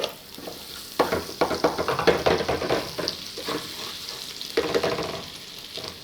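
Minced garlic frying and browning in a pan for a macaroni béchamel dish, a steady sizzle with bursts of stirring and scraping through most of the clip, close and moderately loud.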